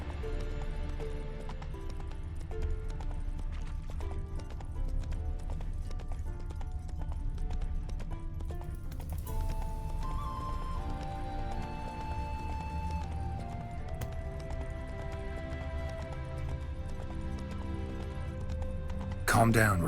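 Roach, the horse in The Witcher 3: Wild Hunt, clip-clops in a steady rapid hoofbeat rhythm under continuous game music, with a brief louder thump at the very end.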